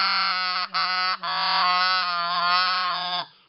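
A RedBone Snowbuzzerd snow goose call is blown in one long, loud, reedy honking note close up, briefly broken twice, with a high buzzy tone that wavers slightly before cutting off.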